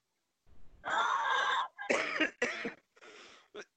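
A person coughs in a series of harsh, close bursts: one long hacking fit followed by several shorter coughs, ending in a brief final cough, with no talking.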